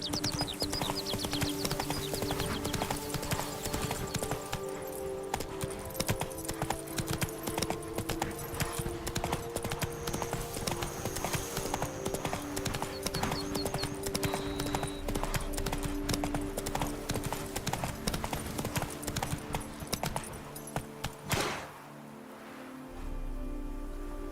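Horse hooves clip-clop in a steady trotting rhythm in The Witcher 3 game, with rain falling throughout and faint game music underneath. The hoofbeats stop near the end, leaving a short low thud.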